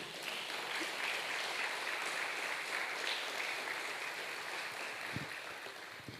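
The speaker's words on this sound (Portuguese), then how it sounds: "Você pode dar, né, um aplauso ao Senhor Jesus?" A church congregation applauds continuously during a service, a soft, even wash of many hands clapping at a distance, steady throughout with no talk over it.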